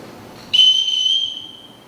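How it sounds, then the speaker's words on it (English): A single loud, shrill whistle blast from a captain summoning his household in a stage performance of The Sound of Music, sustained for about a second and fading out into a quiet room. "Everyone in this house answers to a whistle."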